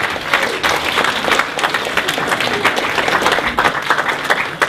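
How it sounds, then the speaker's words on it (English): A round of applause for the translator at a public meeting in the Eagles Hotel, Llanrwst: dense, steady clapping from a room of people, sustained and loud throughout without pause. "I think he deserves a round of applause"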